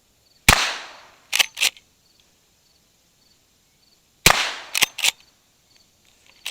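Two shots of .38 Special cowboy loads from an 1892 lever-action rifle, each sharp report followed moments later by two quick metallic clacks of the lever cycling, the pattern repeating about four seconds apart outdoors.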